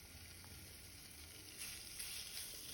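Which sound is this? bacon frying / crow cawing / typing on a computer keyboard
bacon frying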